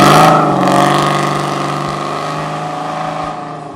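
A 1972 Dodge Challenger fitted with small Flowmaster Super 10 mufflers revs loudly and close by, its harsh exhaust roar peaking at the start and then slowly settling as the engine drops back.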